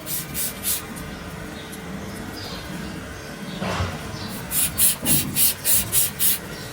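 Water washing over a cow's hoof during hoof trimming, a rough spraying and rubbing wash with a louder splashing burst midway, then rhythmic swishing strokes near the end.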